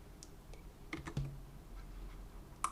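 Several quiet keystrokes tapped on a computer keyboard while entering a number into 3D modeling software, scattered clicks spaced irregularly with a brief cluster in the middle, no one talking.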